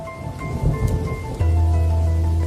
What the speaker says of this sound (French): Mais voilà que la pluie se fait plus forte.